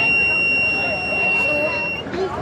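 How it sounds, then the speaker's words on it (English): An electronic buzzer on a homemade water overflow alarm gives a steady high-pitched tone for about two seconds and then stops, heard under background voices in a busy room. "Buzzer helps us to know that it is full or not."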